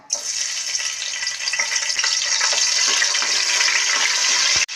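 Green chilies dropped into hot oil give a loud, steady sizzling hiss that holds for several seconds and then cuts off abruptly.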